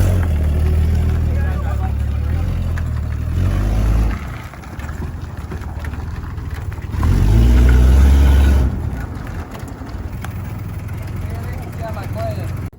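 Dodge Dart car engine running while being maneuvered into a parking spot, a steady low rumble that swells louder in bursts, with people talking over it.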